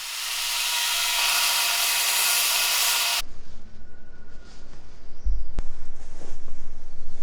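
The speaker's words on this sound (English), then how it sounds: "I'm just going to be using my 2x72 inch belt grinder to clean up the hooks" A 2x72 inch belt grinder cleans up metal hooks, giving a loud, steady abrasive rush for about three seconds before it cuts off. Quieter shop handling noises and a sharp click follow.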